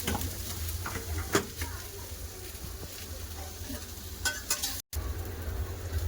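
Onion and chilli frying in a kadai, with a steady close sizzle and occasional stirring clatter running through the clip.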